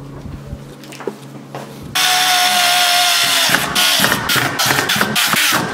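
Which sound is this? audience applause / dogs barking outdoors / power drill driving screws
power drill driving screws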